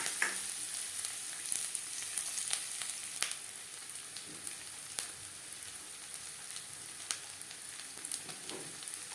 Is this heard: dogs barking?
no